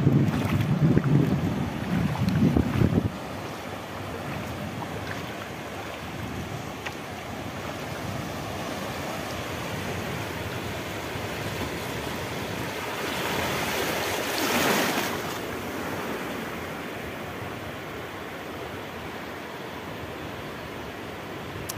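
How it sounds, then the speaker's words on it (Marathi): Sea waves rushing onto a beach under strong wind buffeting the microphone, a loud low wash for the first few seconds followed by a continuous surf roar with a swelling surge midway, with no talking. "लाट आली लाट आली लाट आली."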